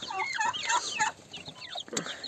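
Chickens clucking and chattering nearby, several overlapping calls in quick bursts, moderately loud with brief pauses.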